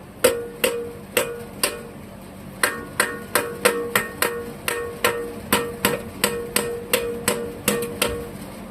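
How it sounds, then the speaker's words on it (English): Metal taps on the carburetor float bowl of a Clinton model 3100 engine with a sticky float, about twenty sharp, close, evenly spaced knocks, each ringing briefly over a quiet background hum. "I feel like we have a sticky float because this level did not go down at all. Let's do some tapping on it."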